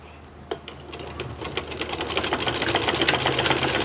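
A sewing machine stitches a kameez collar backed with paper buckram; a single thump is followed by a rapid mechanical whir that speeds up and grows louder, running steadily to the end.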